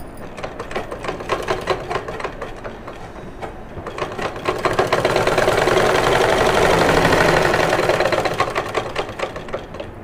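A sewing machine stitching a baby frock, its needle running in a rapid even clatter, speeding up into a louder steady whir in the middle before slowing again, close and alone.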